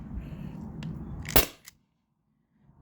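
A single sharp shot from a modded T4E HDP50 airsoft pistol running on an HPA tank and firing 8.4 gram steel bearings, a close crisp crack that follows low background rumble and is trailed by a faint click before quiet.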